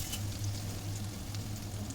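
Asafoetida, cumin and mustard seeds sizzle in hot oil in a kadhai, a steady close crackle and hiss that runs evenly for the whole stretch with no voices over it.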